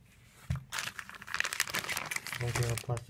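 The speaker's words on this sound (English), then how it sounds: "Okay, a plastic bag." A plastic bag crinkles and rustles in bursts, close and fairly loud, while someone talks over it.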